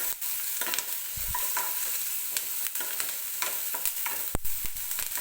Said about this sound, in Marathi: थोडासा मऊ होईपर्यंत आपल्याला हा कांदा भाजून घ्यायचा आहे तेलामध्ये.